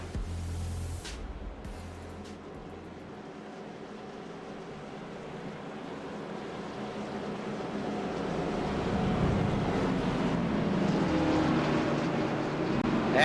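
Race cars circling behind a Ford Mustang GT pace car at Kansas, a steady broad engine drone with low rumble that swells louder toward the end.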